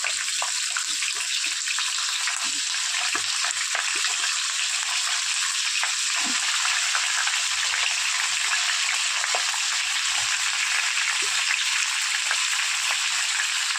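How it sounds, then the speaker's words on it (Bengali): Vegetables frying in hot mustard oil for a Bengali chachodi with dried fish and Malabar spinach stems, a dense, even hiss of sizzling that runs without a break, close and steady, with faint clicks underneath. "সর্ষের তেল গরম করে নিয়েছি এবার সবজিগুলো দিয়ে"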